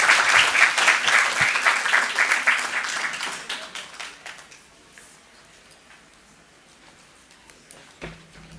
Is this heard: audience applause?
yes